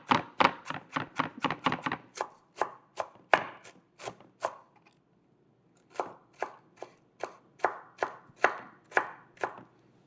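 A knife on a cutting board minces vegetables for okonomiyaki, a Japanese savory pancake, in rapid crisp chops that slow to a spaced rhythm, pause briefly, then resume; close, clear and without speech.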